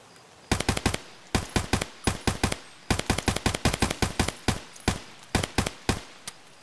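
Gunfire from a weapon in Escape From Tarkov: sharp, loud shots fired alone in rapid bursts and quick strings of single rounds, separated by short pauses.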